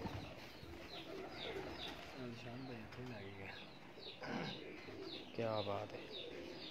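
Pigeons coo and chirp repeatedly at close range in a loft, mixed with other bird calls, while someone talks over them.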